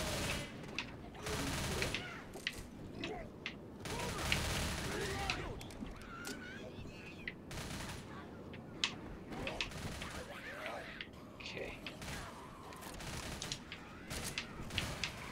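Rapid gunfire from weapons in the co-op zombie shooter Left 4 Dead, heard in repeated bursts of sharp shots spread across the stretch, with voices of players talking intermittently over the shooting.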